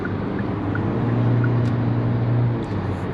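Small four-cylinder car engine paired with a CVT in a rental car, heard from inside as a steady, low droning hum with a slight rising tone, continuous and fairly loud throughout.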